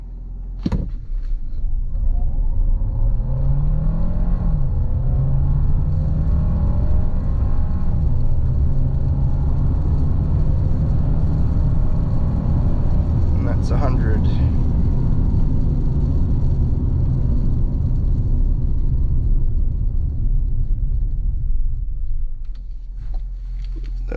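A 2025 Hyundai Santa Fe XRT accelerating hard from 0 to 100 km/h, the engine roar climbing steadily in pitch through gear changes over a continuous loud road rumble heard from inside the cabin.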